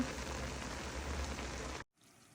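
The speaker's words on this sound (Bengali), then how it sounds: "আমি ইলিশ মাছ ফ্রাই করে নিব" Hilsa fish frying in a pan, a steady dense crackling sizzle, close and fairly loud, that cuts off abruptly near the end to a much quieter background.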